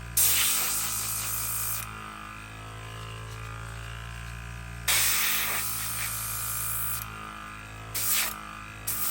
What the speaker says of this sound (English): so that's the airbrush